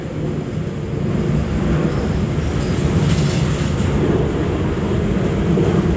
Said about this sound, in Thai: ก็จะมีเสียงเครื่องบินนะคะ เพราะว่าตอนนี้ อัดอยู่ที่ทำงาน